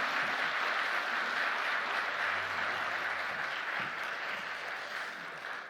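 A church congregation applauds steadily throughout, a dense, even wash of clapping that holds at a loud level and eases slightly toward the end, with no voices over it.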